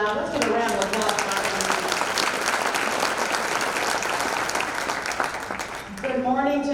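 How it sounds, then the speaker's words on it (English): Loud audience applause at a scholarship breakfast fills the room, steady crowd clapping with a voice talking over it at the start, then a short dip before a voice speaks again over the tail of the clapping. "Let's give a round of applause for"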